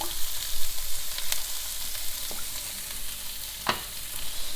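Chickpeas fry in oil in a pan, a steady close sizzle with occasional sharp scrapes and clicks as they are stirred, loud and continuous with no talking.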